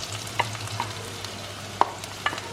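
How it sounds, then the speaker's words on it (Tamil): Ginger garlic paste sautés in ghee in a pressure cooker, a low steady sizzle under a few sharp scraping stirs of a spoon against the pot. "இஞ்சியும் பூண்டும் அந்த நெய்யில் நல்லா வதங்கட்டும்"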